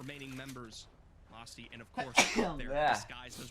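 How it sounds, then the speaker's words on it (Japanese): A person talks briefly, then lets out a sharp, loud sneeze up close, followed by a little more voice. "くしゃみ出る。"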